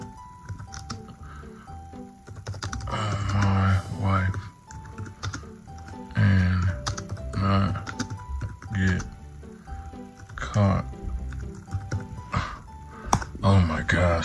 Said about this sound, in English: I'm gonna type on the internet